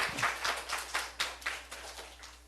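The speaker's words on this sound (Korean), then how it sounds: "우리 하나님께 박수합니다." A church congregation claps during a morning worship service, a sparse, moderately faint run of rhythmic claps roughly twice a second, with no voices over it.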